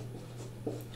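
A pen scratches briefly while someone writes by hand during a maths lesson, faint and close, with one slightly sharper stroke near the end and no speech.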